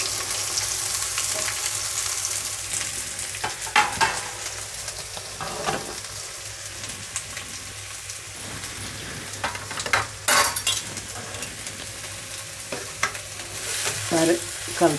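Sliced onion and thinly cut cabbage sizzling and being stirred in a hot pan for noodles, a steady loud frying hiss with scraping spatula strokes and occasional clanks against the pan.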